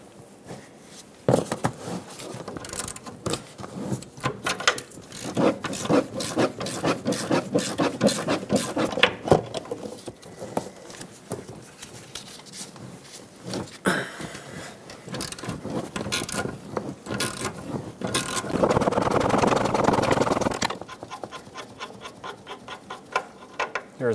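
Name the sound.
wrench removing 21mm shock absorber mounting nuts on Silverado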